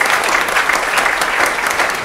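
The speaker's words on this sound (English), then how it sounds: "Let's have one more round of applause for God." A church congregation breaks into brief, lively applause, a dense wash of clapping hands that stays steady and close for a couple of seconds.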